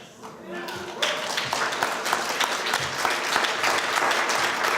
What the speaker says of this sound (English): I thank you all for your clapping and your applause